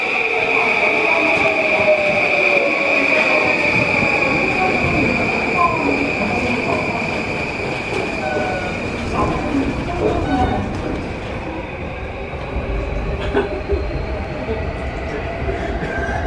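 A Tokyo commuter train heading to Takanawa Gateway station rolls along the tracks with a steady rumble and a high whining tone, wheels clattering and squealing intermittently, heard from inside the car.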